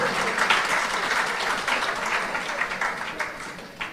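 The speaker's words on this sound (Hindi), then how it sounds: "हाँ ताली बजाना तो बजा लीजिए आप।" Audience applause at a spoken religious discourse, a dense steady clapping from a large crowd filling the whole moment without pause.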